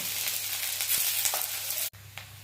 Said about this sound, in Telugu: ఫ్రై చేయడానికి బాండి పెట్టి ఆయిల్ వేసుకున్నానండి. ఒక ఉల్లిపాయ అండి, ఉల్లిపాయ ఎర్రగా వేగనిద్దామండి